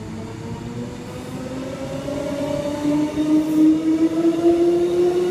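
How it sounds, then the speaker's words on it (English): A Queensland Rail electric multiple unit departs Wooloowin station on the Doomben service, a steady rolling rumble with a rising motor whine that grows louder as it pulls away. "Doomben service, now departing."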